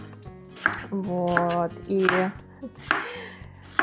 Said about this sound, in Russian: Хаотично нарезаю просто крупно лук.